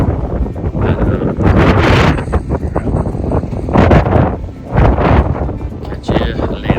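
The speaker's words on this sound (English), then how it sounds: "You're probably not hearing this because of the wind" Strong wind on a Pacific Crest Trail hike buffets the microphone in loud, uneven gusts and rumbles, mixed with someone talking close up.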